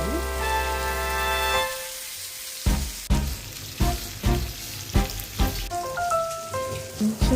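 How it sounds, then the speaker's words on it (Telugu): Paneer pieces fry in oil and butter in a pan, giving a steady crackling sizzle beneath loud music with rhythmic beats that starts after a few seconds. "సో ఇలా ప్యాన్ మీద ఆయిల్ వేసి రైస్ బటర్ వేసి అలా తీసుకున్న మిక్స్ చేసిన ముక్కలన్నీ ప్యాన్ మీద అలా ఫ్రై చేసుకోవాలి"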